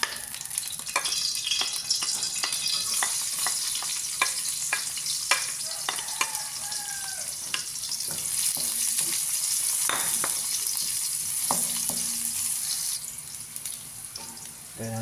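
Cooking oil sizzling in a pan at the start of making stuffed crab, a continuous close frying hiss broken by frequent clicks and scrapes of stirring, with some watery splashing underneath.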